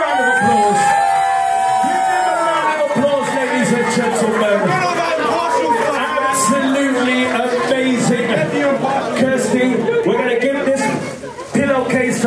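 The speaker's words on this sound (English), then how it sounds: "Give them a round of applause." Live audience at a UK creator event cheering, whooping and calling out loudly, a dense crowd roar with voices and music underneath, sustained throughout before dropping off near the end.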